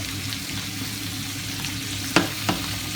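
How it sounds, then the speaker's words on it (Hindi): Bell peppers, carrots and peas fry for fried rice in a hot pan, giving a steady, loud sizzle throughout, with two sharp scrapes of stirring near the end and no talking. "इनको अच्छी तरीके से भून लेंगे।"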